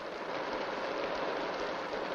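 Steady rain falls without a break, a broad even hiss that stays at the same level from start to end with no voices over it.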